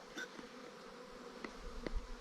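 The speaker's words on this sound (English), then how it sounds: "Hi there, little bees." A honey bee swarm hums faintly around a clustered colony, with a few individual bees buzzing nearer for brief moments over a soft, low outdoor background.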